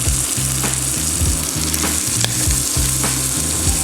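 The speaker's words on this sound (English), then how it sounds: "Give that a quick mix." Clam broth with habaneros sizzling hard in a hot pan as it gets a quick stir, a dense, loud frying hiss throughout with a few faint scraping strokes, close up and with no talking.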